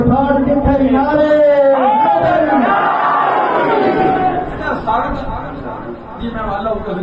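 A large crowd at a naat gathering shouts slogans in unison. The loud chorus of voices comes in call-and-response surges, with a leader's voice rising above it, and it continues throughout.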